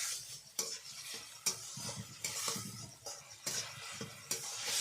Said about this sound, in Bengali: এবারে ভালোভাবে মশলাগুলো কষিয়ে নেব